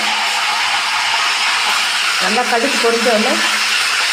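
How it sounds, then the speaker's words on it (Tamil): Mustard seeds spluttering in hot oil during home cooking, a loud continuous hiss and crackle, with a voice speaking briefly over it partway through. "கடுகு போட்டுட்டு கடுகு நல்லா பொரிஞ்ச உடனே"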